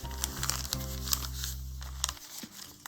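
Paper for a long slim junk journal being creased and folded in half, a dry crinkling and crackling close by, with a few sharp crisp accents over a steady low hum, ending in a brief pause and a last soft rustle.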